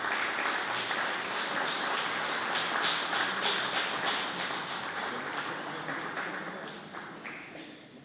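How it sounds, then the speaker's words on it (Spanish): An audience claps for the speaker Xavier Sarabia Mariche after a question session, dense even applause that starts full and gradually thins and fades toward the end. "Vamos a darle un aplauso a Xavier"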